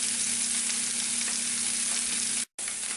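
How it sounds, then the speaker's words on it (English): Sausages frying in a pan and being flipped give a steady, close sizzle with a faint hum beneath. It cuts out for a split second, then resumes. "Basically what you're doing here is just giving them a flip so that they can get a little bit brown on all sides."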